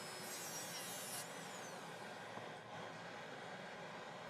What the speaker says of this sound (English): use a brown Lisco disc to roughen the buccal areas marked on the lower model